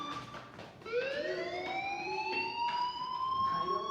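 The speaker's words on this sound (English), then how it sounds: "do you hear that fire alarm?" A video game fire alarm wails with rising, sustained tones, fairly faint and steady, with no talking over it.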